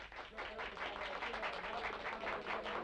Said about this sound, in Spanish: Los aplausos son unánimes.